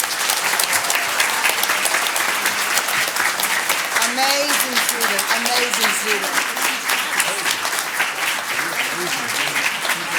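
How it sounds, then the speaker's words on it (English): Warm applause from the audience at a Pasadena ISD board of trustees meeting fills the room steadily throughout, with a voice speaking over the clapping. "A really warm applause."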